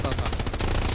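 Rapid machine gun fire in the World War II shooter Hell Let Loose, a dense burst of close, loud shots repeating quickly for the full second, with a heavy low rumble beneath.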